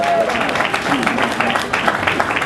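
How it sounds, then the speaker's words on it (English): Audience applause for a congressman at a Juneteenth event, a dense steady clatter of clapping from a crowd with voices mixed in throughout. "let's give him a round of applause"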